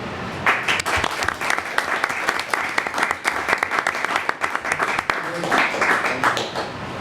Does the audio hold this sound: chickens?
no